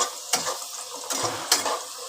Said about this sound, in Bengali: আলুগুলো আমার লাল লাল করে প্রায় ভাজা হয়ে এসছে